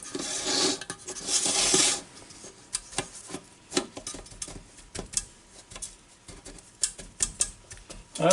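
Dry bread crumbs are rubbed by hand into raw pork chops, giving soft scratchy rasping strokes in uneven bursts, with a louder stretch of rubbing near the start and then scattered short rustles, all close and quiet.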